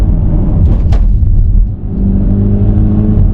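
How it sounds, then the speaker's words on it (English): BMW X3 30 SUV accelerating, its engine note heard from inside the cabin as a loud, low rumbling drone that swells briefly and then settles into a steady hum, with no talk. "I don't know how they mimic the sound of the engine inside the cabin,"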